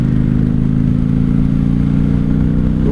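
Engine of a 1995 Honda Shadow VLX 600 motorcycle running, a loud, close, steady low throb with a rhythmic pulse and no voices.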